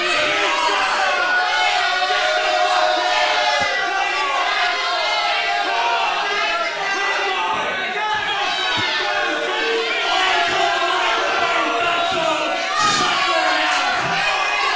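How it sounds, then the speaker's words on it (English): A pro wrestling crowd roars and jeers continuously at full volume, with layered shouting, whistles and scattered yells filling the arena. "Holy crap, this crowd do not like these guys."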